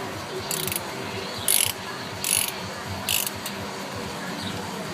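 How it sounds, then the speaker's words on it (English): A ratchet backs out bolts on the front differential cover of a Jeep Wrangler TJ, giving four short bursts of close, bright clicking separated by pauses over steady background noise. "I'm going to go ahead and take out these bolts here that hold it in place"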